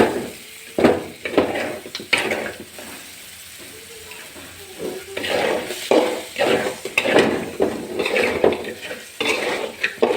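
Extra cooking oil goes into a hot pan during home cooking, with a spatula clattering and stirring against the metal over a soft sizzle; the irregular scraping strokes come close and fairly loud.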